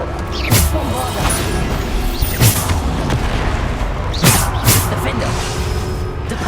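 Bombarda spell explosions in the game Hogwarts Legacy go off as several loud, sharp booms spaced a second or two apart, over a continuous busy background of combat noise.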